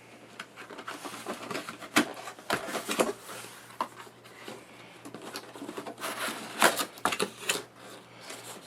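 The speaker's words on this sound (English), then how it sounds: "let's open this thing up." Cardboard and packing material of a Roland A49 USB MIDI keyboard box are handled and pulled open, giving irregular close crinkles, taps and rustles with short sharp bursts.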